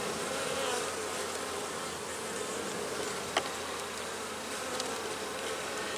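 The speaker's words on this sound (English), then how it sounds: "why is there a bee right where I need to put my finger every time?" Bees drone in a dense, continuous buzz close around an open hive during requeening, the swarm's hum steady and fairly loud throughout with a faint click or two.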